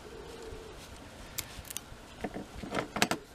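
Scissors snip through wisteria cuttings in a quiet setting, with a few short, sharp clicks spaced irregularly toward the end.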